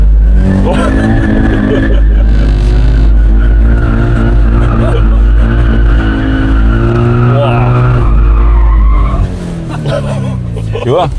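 Toyota GT86 sliding with every driver assist switched off, its tires squealing in a long, loud skid over a steady engine drone, while people inside exclaim now and then.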